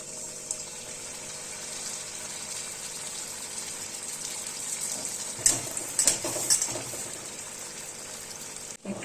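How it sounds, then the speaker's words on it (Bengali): Potato balls frying in deep hot oil over a low flame, a steady bubbling sizzle throughout with a few sharper crackles near the middle, no talk. "এবার একটা একটা করে বলগুলো ছেড়ে দেবো তেলের মধ্যে"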